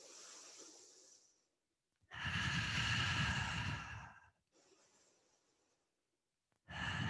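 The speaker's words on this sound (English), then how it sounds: "Exhaling nice HA out the mouth, releasing anything you don't need." A person doing a breathing exercise during mat Pilates exhales forcefully out the mouth, a long loud breathy release followed by a softer breath, separated by brief silences, close and intimate.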